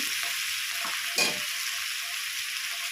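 Cabbage curry with fish head being stirred in a hot pan, a steady sizzle with a few scraping stir strokes, one brief louder scrape midway, no talk.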